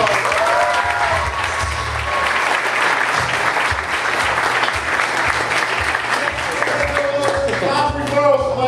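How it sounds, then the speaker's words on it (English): Applause for award winners at an agency meeting, a steady roomful of clapping at even strength throughout, with voices faintly mixed in beneath. "Give the sits guys a round of applause"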